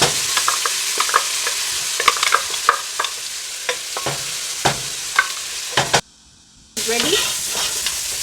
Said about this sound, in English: So we are adding our blended garlic, onion and ginger